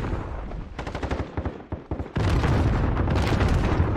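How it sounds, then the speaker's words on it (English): Gunfire in the Modern Warfare video game rattles in quick bursts of shots, followed by a sudden loud, dense continuous roar of firing and blasts that fills the rest. "we're getting shot from up top"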